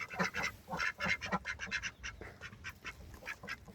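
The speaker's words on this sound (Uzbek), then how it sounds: "Mana o'rdakchalar" Ducklings kept at home for extra income quack in a rapid, busy series of calls, close and fairly loud, with several birds overlapping throughout.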